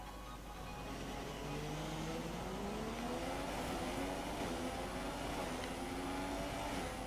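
F1 race cars in a racing video game, high engine whines rising and shifting in pitch as several cars run together, a steady dense roar with no talk.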